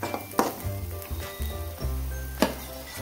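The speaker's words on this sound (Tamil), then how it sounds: "ஸோ இப்போ இதை நல்லா வதக்கி விட்டு நல்லா கோல்டன் ப்ரௌனாக வர வரைக்கும் நல்லா வதக்கிக்கலாம்" Onions sautéing in a pan until golden brown, with chopped tomatoes added, for a potato and peas bhaji, a soft sizzle under scattered metallic clinks and scrapes of stirring, close and fairly quiet.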